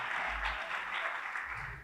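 Quiet, steady applause from a small group at a men's lacrosse awards breakfast, honouring two players, a soft continuous patter heard at some distance.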